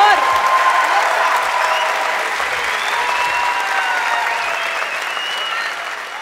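Audience applause fills a live concert in Montevideo, a dense, loud wash of clapping with crowd cheers and whistles that gradually eases off.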